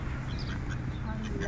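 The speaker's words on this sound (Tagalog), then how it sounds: "There's a lot of duck everywhere." Ducks quack in a botanic garden in Dunedin, New Zealand, short calls scattered over a steady outdoor background while people chat nearby.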